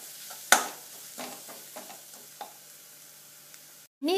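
Chilli powder and spices frying in oil for a tapioca cutlet, a soft sizzle with a few scraping stirs near the start, quieter afterward, close by and with no one speaking.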